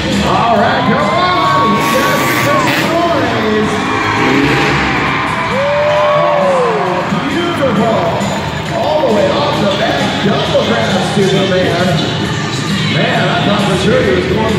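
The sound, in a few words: crowd cheering at monster truck show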